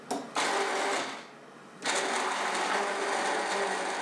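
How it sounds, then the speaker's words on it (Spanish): Blender whirring through peeled eggplant pieces in water, a loud steady motor roar that drops off briefly, then starts up again and runs on. "Se pasan por la licuadora durante unos segundos."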